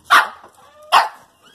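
A dog gives two close, loud barks about a second apart, with quiet in between.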